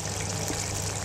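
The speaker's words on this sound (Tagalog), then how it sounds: "So, guys, dagdagan natin ng konting tubig." Water poured into a pan of pork ribs adobo with potatoes as it cooks, a steady close trickle under an even hiss of simmering, with no talking.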